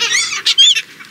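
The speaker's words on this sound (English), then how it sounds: "all the birds are here" A flock of birds gathered on a beach calls out in loud, close, overlapping honking cries, a dense raucous chorus with one thin whistling note rising through it.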